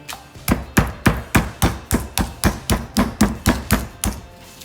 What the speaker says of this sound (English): So I'm just gonna slightly pound it to break the muscle.